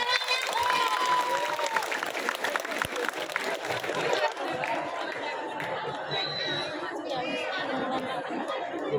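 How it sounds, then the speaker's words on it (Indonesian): Applause and crowd chatter from onlookers at a scout parade during a school orientation, clapping and cheering mixed with loud, busy talk and voices throughout. "Beri tepuk"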